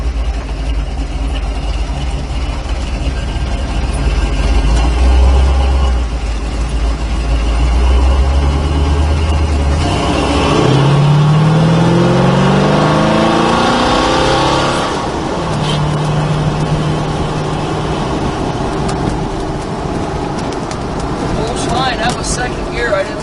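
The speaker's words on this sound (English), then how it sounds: "Second gear. I didn't want to lay into it in low gear, but that was second gear, a little bit of a shot, and it shifted nice into high gear." A 1974 Ford Bronco with a torquey 302 V8 accelerating hard, its deep engine roar climbing in pitch through second gear before an upshift into high gear, heard close with someone talking over parts of it.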